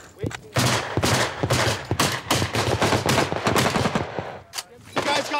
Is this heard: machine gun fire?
yes